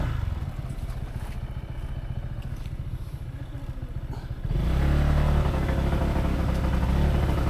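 A motorcycle engine runs steadily nearby with a low rumble, then revs louder and fuller partway through.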